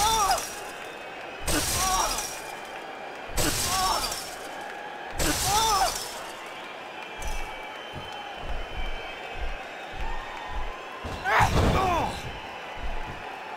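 Several loud, sharp metallic crashes of a wrestler's head and body slamming into a steel cage during a mixed WWE SmackDown cage match, spaced a few seconds apart, with commentary voices and crowd noise in between.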